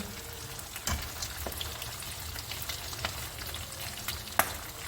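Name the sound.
fish frying in a pan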